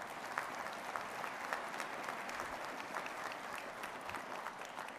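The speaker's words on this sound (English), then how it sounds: "Give yourselves a round of applause for that" Steady audience applause fills a Masonic Grand Lodge installation room, dense even clapping throughout with no voices on top.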